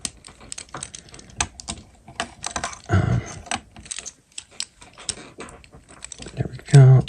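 Small plastic parts of a Transformers Evolution Dion and Erial action figure click and snap into place, a run of light, close taps and clicks, with a voice talking alongside.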